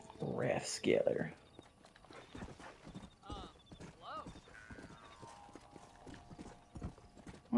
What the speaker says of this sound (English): Well, it's a horse race.